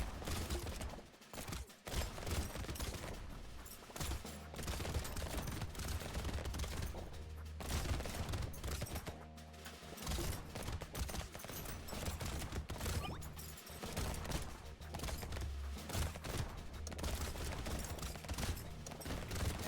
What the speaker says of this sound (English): I like the shotgun and revolver blast just to take out the anglerfish